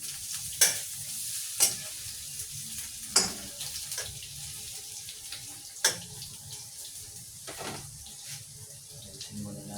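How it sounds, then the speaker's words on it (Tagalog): Eggplant stirred in a frying pan, a spoon scraping and knocking against the metal in irregular strokes over a constant sizzle, close up with no voices. "Ating haluin yung ating talong."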